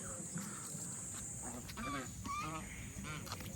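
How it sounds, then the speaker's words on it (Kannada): Several ducks, just out of the water after swimming, quack and honk in short bursts nearby over a steady background hum, with a few overlapping calls in the middle. "ಈ ಬಾತುಕೋಳಿ ನೋಡಿ, ಬಾತುಕೋಳಿ"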